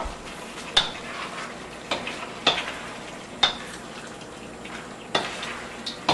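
Asian-style eggplant in sauce is stirred in a hot frying pan, a steady sizzle broken by sharp scraping clinks of the utensil against the pan at irregular intervals, with no talking.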